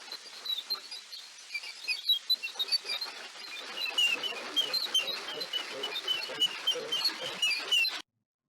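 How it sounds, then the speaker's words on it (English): Ultrasonic courtship calls of a male mouse chasing a female, pitch shifted down into hearing range: a dense, continuous stream of quick chirps and squeaky sweeps, moderately loud, stopping abruptly at the end. "when a male mouse is pursuing a female social partner and its USVs are pitch shifted into the human hearing range, it looks and sounds like this."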